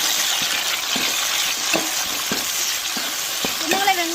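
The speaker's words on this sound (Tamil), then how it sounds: "வெங்காயம் தக்காளி பச்சை மிளகாலாம் இன்னும் கொஞ்சம் நேரம் எண்ணெயில வதங்கி வரட்டும்." Onions, tomatoes and green chillies fry in oil with a bright, steady sizzle, punctuated by regular scraping stirs of a spoon against the pan about every half second, close and without speech.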